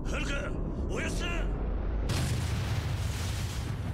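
A grenade blows up in the video game Yakuza Kiwami: a voice talks over low rumble, then a sudden loud blast bursts in and holds as a dense, roaring wash of noise to the end.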